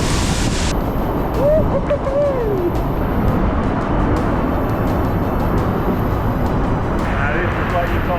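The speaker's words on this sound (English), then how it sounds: "But look what's right next to us, an absolute torrent of water." A torrential waterfall in a rainy Dolomites canyon beside a via ferrata gives a loud, constant broadband roar throughout, with a person speaking briefly over it.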